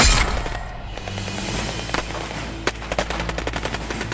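Sound-effect gunfire in a Tagalog horror story, a loud opening blast followed by rapid, continuous bursts of machine-gun shots with sharp cracks scattered through the barrage.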